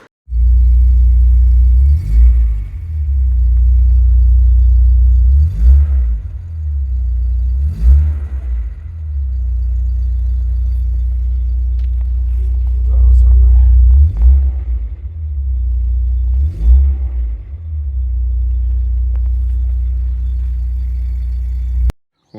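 A Mk2 Golf GTI or Skoda Octavia engine rumbles deep and loud close by as the car pulls out of a garage. A few brief revs and knocks rise above the steady drone.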